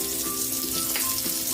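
Chicken feet tinola simmering in a pot with fish sauce, pepper and calamansi juice, a steady close bubbling and sizzling wash with small pops throughout and no talking.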